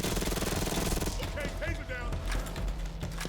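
A Kross Vertex SMG in Payday 2 fires a fast, loud rattling burst for about a second, then stops, leaving scattered mechanical clicks and game sounds behind.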